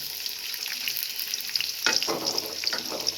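Chopped onion drops into hot soybean and mustard oil, with a soft steady hiss swelling into a brighter crackling sizzle once the onion hits the pan, close and without voices.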